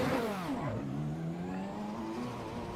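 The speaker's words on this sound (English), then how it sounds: "I think the car engine needs to turn down a little bit" Race car engine in Assetto Corsa EVO revving hard, pitch dropping on a shift then climbing steadily again, a loud close-up engine howl with no talk.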